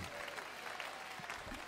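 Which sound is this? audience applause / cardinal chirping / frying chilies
audience applause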